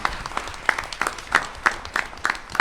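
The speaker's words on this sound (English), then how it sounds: "Give a round of applause." Clapping at a high school class event, sharp claps landing in a quick even rhythm about three per second, fairly close over light room noise.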